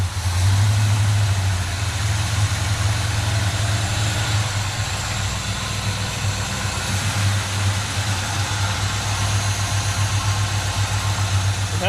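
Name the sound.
1957 Chevy Bel Air engine idling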